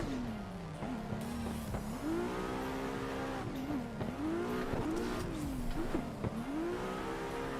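A race car drifts in a racing game, its engine whining and swooping up and down in repeated revving arcs, with dull thumps as it taps the walls several times.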